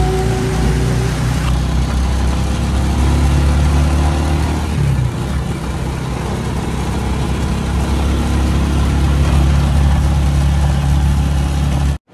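A motor tricycle's engine drones steadily while riding, heard from on board as a loud, continuous low rumble with road and wind noise and a brief shift in pitch midway.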